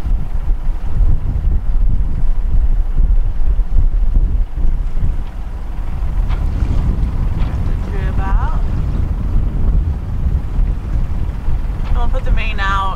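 A sailboat running downwind on a fair-weather day, with steady wind and water rush dominating throughout and a voice talking over it near the end.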